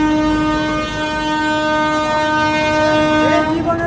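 A train bound from Narayanganj to Dhaka sounds a long, loud, sustained horn, heard up close from the front roof, with running rumble beneath that shifts near the end.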